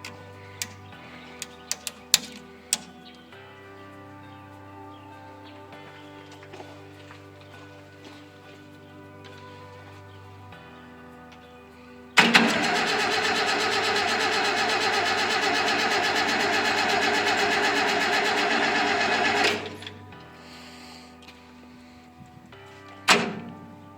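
A Satoh tractor engine with fuel primed to the carburetor is cranked, and a loud, sustained mechanical churn runs for about seven seconds without catching. Quieter ticks and clunks come before it, and a knock follows.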